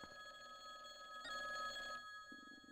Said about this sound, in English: The phone is ringing. Answer the phone.